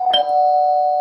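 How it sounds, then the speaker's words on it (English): A doorbell gives a single electronic ding-dong chime, a short struck onset followed by a clear sustained tone ringing out close and alone. "It's called a doorbell."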